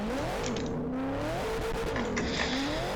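Four-door Nissan R32 driving, a continuous engine note that rises and falls as it revs through gears, loud and close throughout.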